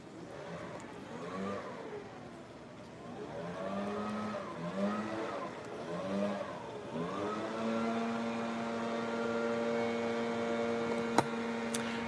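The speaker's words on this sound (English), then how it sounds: "I'm so sorry about that blower" An outdoor blower runs in the background, its motor whining and changing pitch as it revs and settles into a steady drone at moderate distance.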